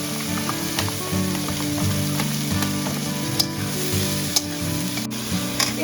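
Sliced onions dropped into hot oil with cloves and whole garam masala for a green-chilli chicken sizzle loudly and continuously, with occasional stirring scrapes and ticks over the steady frying hiss.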